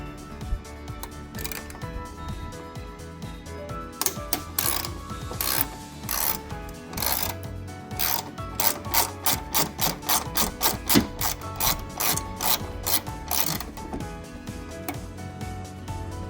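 Ratchet wrench loosening a bolt on the tailgate of a 2019 Ford F-150, a rapid series of sharp clicking bursts with short pauses between pulls, fairly close, over a steady background hum, no talking.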